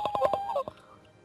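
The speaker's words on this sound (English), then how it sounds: "It's full of birds." Birds aboard a ship in the Starbound video game give a quick run of loud, nasal honking squawks, four or five pulses in about half a second, then a final short squawk before fading.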